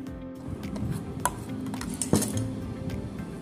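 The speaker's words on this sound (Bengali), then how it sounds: "এবার ওভেনে কড়াই বসিয়ে দিলাম।" A metal wok (kadai) set down on a kitchen stove gives a few sharp metallic clinks and knocks, close and fairly loud, amid light kitchen clatter.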